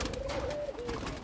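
Pigeons cooing while being caught inside a cage, a steady low, throaty coo held for about a second over a rustling, noisy background.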